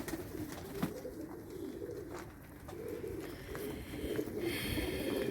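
A female Arab tumbler pigeon chick gives soft cooing calls, close by, over a low outdoor background hum.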